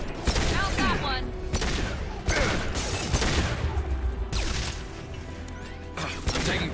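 Bursts of gunfire in Mass Effect 2, rapid clattering volleys separated by short pauses, with impacts and mechanical clanks, loud and close throughout.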